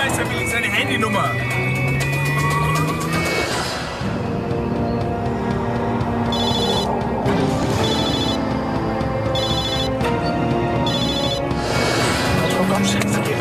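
A telephone rings in short repeated bursts in a tense crime-drama scene, partly buried under loud, agitated voices and a steady background bed of sound.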